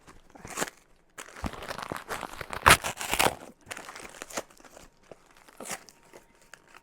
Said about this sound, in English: I got to cut this open.